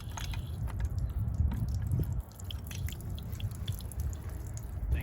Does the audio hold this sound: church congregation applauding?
no